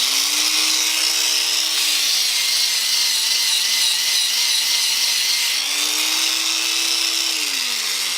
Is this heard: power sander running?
yes